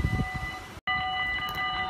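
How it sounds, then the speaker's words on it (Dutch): A train passes the station at Maasbracht in the Netherlands, a steady rail rumble with sustained tonal whine lines, briefly cut by a short dropout before resuming at similar level; no talking. "welkom bij de 21ste trein"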